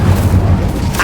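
A fire spell cast in the video game Hogwarts Legacy, a short rumbling whoosh-like burst, loud and close, with deep low-end energy and a brighter flare toward the end.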